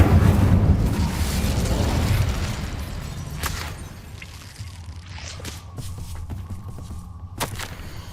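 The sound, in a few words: Incendio fire spell in video game Hogwarts Legacy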